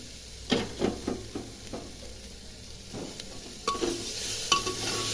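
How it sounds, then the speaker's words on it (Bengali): Chopped chicken goes into a pan of frying vegetables for chicken soup and gets stirred, with a steady sizzle broken by several sharp scraping stirs and knocks against the pan, close and fairly loud. "এখন এই যে চিকেনটা যে কুচি করে রেখেছি এটা দিয়ে দিচ্ছি"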